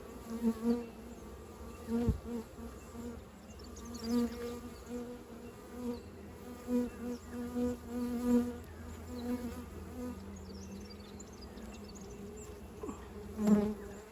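Agitated honeybees buzz in an opened hive during a frame inspection, a close, wavering hum with individual bees swelling past the ear in brief louder passes.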